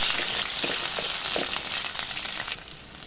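Onions fry with samgyupsal-cut pork belly in a pan, a steady close sizzle with a few soft stirring taps, and no voices.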